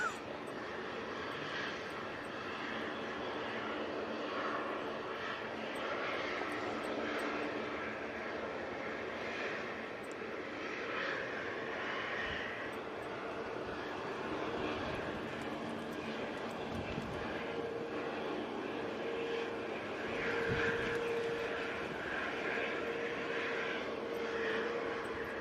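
A Canadian C-130 Hercules turboprop departs Manchester Airport during a storm, a continuous distant engine roar with propeller drone and gusting wind noise holding steady throughout.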